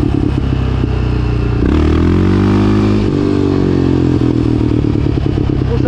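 A motorcycle engine roars loudly and close, revving up and shifting pitch as it pulls away, with a rough, rumbling clatter throughout.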